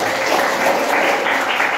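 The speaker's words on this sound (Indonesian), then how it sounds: "Tepuk tangan" Classroom applause from a group of students, a brief steady patter of clapping close by, with some voices mixed in.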